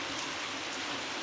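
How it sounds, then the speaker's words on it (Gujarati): Light rain falls in the Saurashtra village of Moti Khilori near Gondal, giving a dense, even hiss of drops that stays steady and close throughout, with no one talking. "ધીમી ધારે વરસાદ ચાલુ થયો છે મોટી ખેલોરીમાં."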